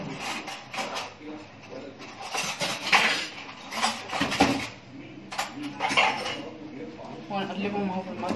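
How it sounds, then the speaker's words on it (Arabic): Sugar is stirred with a whisk in a pot while making a quick no-bake vermicelli and starch dessert, giving repeated metallic clinks and scrapes. A person talks over the stirring, and a dog can be heard in the background. "هنقلبهم اهو في المضرب عشان السكر ده يدوب"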